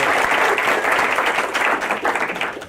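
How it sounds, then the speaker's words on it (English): An audience breaks into dense, sustained applause after a singing performance, a full wash of many hands clapping at once that stays loud and even before tailing off. "Can we give another round of applause?"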